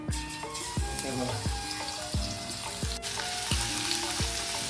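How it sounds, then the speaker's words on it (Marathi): Garlic paste fries in hot oil in a kadhai for an Agri-style fish curry, producing a steady hiss under a regular series of ringing metallic clinks. "सर्वात पहिले कढाई गरम झाल्यावरती तेल टाकलेलं आहे स्नेहाने आणि इथे लसूणचं लसूणची पेस्ट बनवली"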